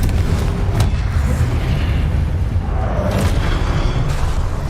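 A heavy rumbling blast from the Confringo fire spell in Hogwarts Legacy, loud and sustained with a deep booming body and a few sharper bursts.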